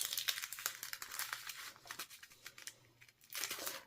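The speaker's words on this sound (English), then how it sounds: "I'm just adding tear and tape to the front of this entire shaker window, envelope, pocket" Tear-and-tape adhesive goes onto the front of a paper shaker card window pocket, producing rapid close crinkling and peeling crackles in quick bursts, then a short lull before a final louder crinkle.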